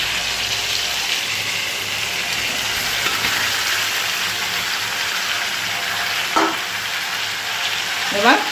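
Raw hilsa fish pieces fry with spices, black pepper and a little sugar in a hot wok, giving a steady, loud sizzle throughout with a couple of brief metallic clinks or scrapes near the end.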